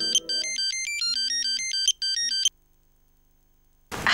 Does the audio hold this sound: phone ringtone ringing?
yes